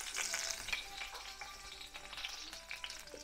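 Curry leaves sizzle and crackle in hot oil with popped mustard seeds and browned urad dal, a steady close frying hiss with small spits and stirring scrapes, no voices.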